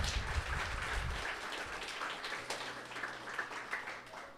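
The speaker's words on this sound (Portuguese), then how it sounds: "Aplauda a Jesus Cristo." Church congregation applause with scattered clapping filling the space, steady and moderately distant, with a low hum underneath.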